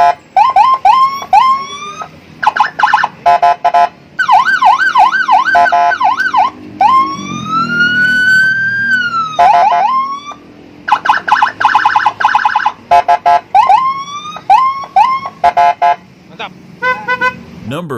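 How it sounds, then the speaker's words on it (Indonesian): Custom Shenken police-escort siren fitted to a Honda Beat motorcycle cycles loudly through several tones: rapid yelps, warbling wails, a long rising-falling wail and quick chirping bursts, each pattern repeated in short runs at close range. "ini kita sudah beres pemasangan sirine patwal custom Shenken di Honda Beat ya"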